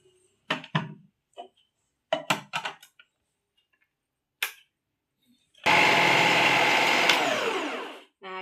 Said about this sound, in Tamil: நான் உங்களுக்கு கேரட் கட் பண்ணி காட்டுறேன் பாருங்களா